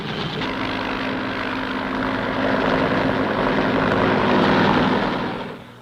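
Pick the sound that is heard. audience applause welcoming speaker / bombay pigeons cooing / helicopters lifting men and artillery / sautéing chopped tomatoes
helicopters lifting men and artillery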